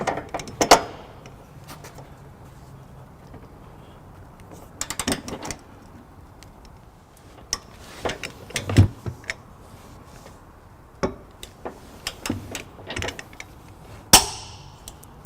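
A ratchet with a 1/2 inch socket tightens trailer hitch bolts on a 2016 Subaru Crosstrek, making scattered clicking bursts and metallic clatter spread across the clip with quiet pauses between them.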